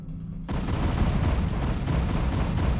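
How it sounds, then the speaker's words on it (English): Explosive charges detonating on a planet in a StarCraft: Remastered cutscene. A sudden loud burst after a short quiet hum swells into a dense, continuous roar of crackling blasts. "Duran, ignite the charges."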